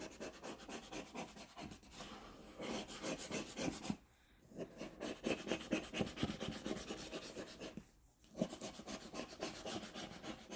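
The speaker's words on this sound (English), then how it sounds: "I like to flip it over to this side and kind of burnish it a little bit to make sure it's good and sticky" A paper ornament tag being burnished, heard as close, steady back-and-forth rubbing strokes with two brief pauses, dry and scratchy throughout.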